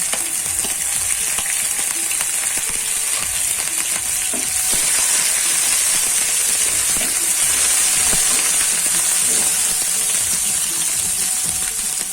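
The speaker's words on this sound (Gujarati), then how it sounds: "હવે આપણે જે લીમડો લીધો છે તે લીમડાના પત્તા નાખી દેશું અને આદુ લસણની પેસ્ટ નાખી દેશું।" Curry leaves and ginger-garlic paste sizzle in hot peanut oil for a fasting kadhi khichdi, a steady, loud hissing fry with faint crackles that runs without letup and with no voices.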